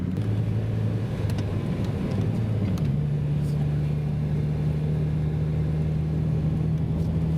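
Car driving on a forest road near the village of Kanasiragi, a steady close engine drone with a brief shift in pitch partway through, continuous rumble with no talk.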